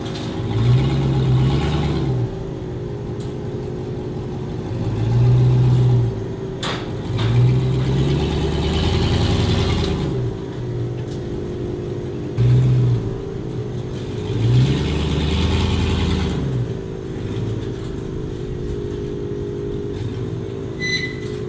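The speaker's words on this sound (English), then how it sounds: "Turn the truck on," A pickup truck engine runs steadily, swelling and easing in repeated revs as it pulls away, loud and close with no talk over it.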